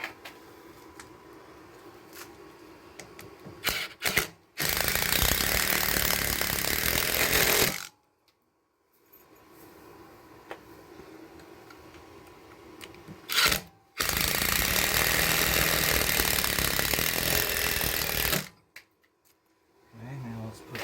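A Ryobi ratchet torque wrench runs in two long, loud, steady bursts of several seconds each, separated by quieter clicking and handling sounds while basement wall bracing is installed.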